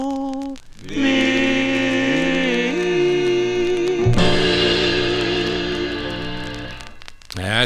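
A 1955 vocal group record, a Parrot label release, plays with sustained harmonised singing over steady backing, loud and continuous throughout.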